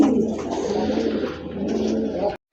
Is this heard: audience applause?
no